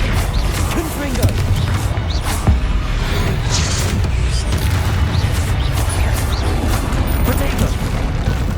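Confringo fire spell blasts in Hogwarts Legacy combat: repeated booming, crackling impacts over a dense, continuous layer of game effects and music, loud and close throughout.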